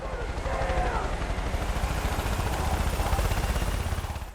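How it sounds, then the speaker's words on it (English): A burning helicopter in the video game Far Cry 5, its rotor thumping in a fast, steady pulse with loud engine roar throughout, near and continuous. "I do light a helicopter on fire,"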